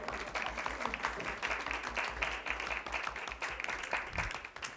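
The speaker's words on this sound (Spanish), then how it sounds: "y ahora un aplauso para mi padre" An audience at a literary conference session on modernism applauds, a moderately faint, continuous wash of clapping in a hall with a low hum beneath it, with some voices mixed in.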